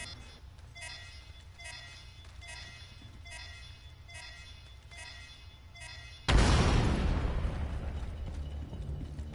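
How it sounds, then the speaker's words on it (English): A C4 charge blows through a wall in a video game, one sudden loud blast after several seconds of quiet rhythmic ticking, followed by a long rumbling decay and falling debris. "We got to place a C4 charge on this wall and blow our way through this wall"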